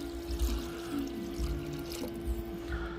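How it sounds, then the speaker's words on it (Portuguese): Water poured into a cooking pot while preparing dobradinha, a gentle trickling stream under a steady kitchen hum, no talking. "Aí, gente, colocar um pouco mais de água."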